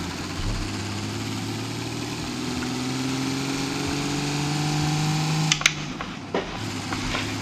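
In BeamNG.drive, a 2003 Ram 3500 truck engine drones steadily as it pulls away towing a trailer. The tone rises slowly as it builds speed, with a few faint clicks and knocks near the end.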